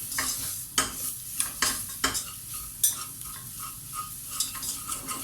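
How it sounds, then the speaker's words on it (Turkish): Ingredients for chicken couscous soup stirred and sizzling in a hot pot, with scraping strokes of a utensil at irregular intervals against a steady frying hiss. "güzelce kavuracağım"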